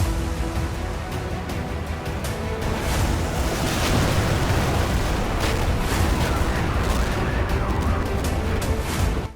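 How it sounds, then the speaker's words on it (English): Artillery fire in a Cold War-era war video game with a Soviet army and tanks, heard as a dense, continuous roar of rumbling blasts and crackling impacts, loud and sustained, with no speech. "it's soon blocked by the effect of Domfluff's artillery"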